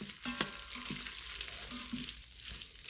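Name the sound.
vermicelli browning in butter and olive oil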